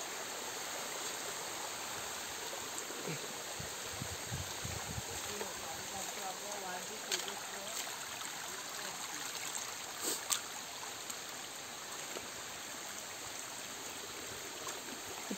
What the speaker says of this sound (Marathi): पाणी बघा कुठून येतोय